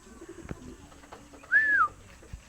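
A pigeon gives a single clear, close coo lasting under half a second, with a few faint clicks and rustles around it in an otherwise quiet outdoor setting.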